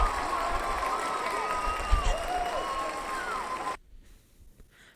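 A canned cheering-crowd sound effect with applause and whoops, fairly loud and steady for several seconds before cutting off abruptly, followed by faint quiet.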